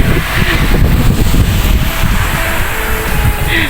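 Outdoor wind blows steadily into the microphone on a walk, a loud continuous rumbling buffet with low-end gusting and rustle and no one speaking.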